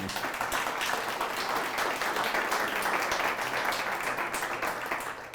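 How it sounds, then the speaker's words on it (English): Audience at a university coffee-and-conversation lecture giving a round of applause, a continuous, even clapping from a sizable crowd lasting throughout at steady loudness, fading slightly at the end. "I think you deserve a good round of applause"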